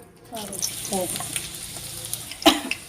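Mustard seeds, cumin and dried red chillies tempering in oil left over from deep-frying bitter gourd pieces, giving a steady low sizzle with a sharper crackle burst near the end.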